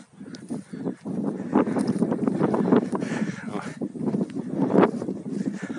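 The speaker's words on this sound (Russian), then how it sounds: "Тут, конечно, ветер." Wind rushes and buffets the microphone on an open mountain top near Gelendzhik, with a person speaking over the steady blowing.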